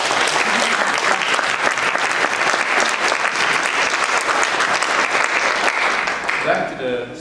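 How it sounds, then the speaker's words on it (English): An audience applauds at a question-and-answer session with an athlete, a dense, sustained clapping that fills the room for several seconds before tapering off at the end. "So just maybe clap."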